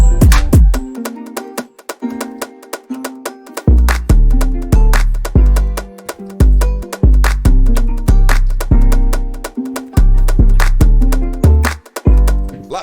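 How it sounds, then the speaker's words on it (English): A drill beat built around a heavier counter snare, claps with delay tails and deep sliding bass hits, playing loud and close in a punchy stop-start rhythm with brief gaps between bars. "So in this section we are using a heavier kind of counter snare."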